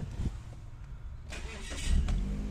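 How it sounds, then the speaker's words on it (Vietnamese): A Mazda 3 with a 1.6 engine is started: a brief cranking whine, then the engine catches and settles into a steady low idle, close and moderately loud. "ta để nổ chiếc xe nào"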